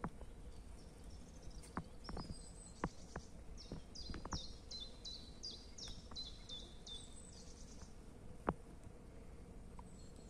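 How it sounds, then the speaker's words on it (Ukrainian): Songbirds in a spring deciduous forest, with repeated high chirping phrases and scattered calls throughout, fairly faint and at a distance, over a soft outdoor ambience. "Пташки співають"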